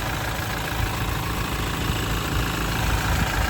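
A Toyota Prado engine idles with a steady, even rumble that holds throughout, loud and close with no other sounds.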